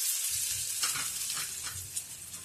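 Crushed ginger drops into hot oil and sizzles loudly and steadily for a couple of seconds while frying for restaurant-style chicken 65, close up with no voices.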